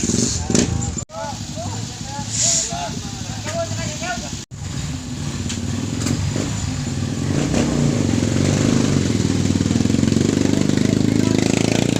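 A motorcycle engine idles and revs nearby, with people talking over it and a couple of brief clattering cutouts.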